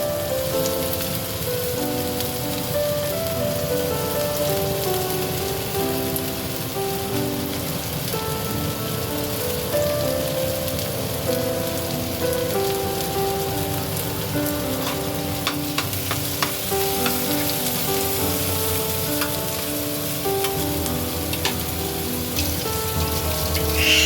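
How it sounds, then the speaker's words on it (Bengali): Garlic, capsicum and onion frying in a pan, a steady dense sizzle and crackle that runs continuously at close range, with occasional stirring scrapes and no talking. "হচ্ছে পেঁয়াজ দেবো, দিয়ে একটু ভালো করে ভেজে নেব।"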